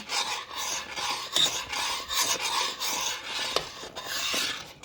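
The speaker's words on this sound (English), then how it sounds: "You don't want it to burn to the bottom, so keep stirring" A spoon scrapes around a pot of thickening farina cereal with cinnamon, making a close, rhythmic rasping and rubbing sound with nobody talking.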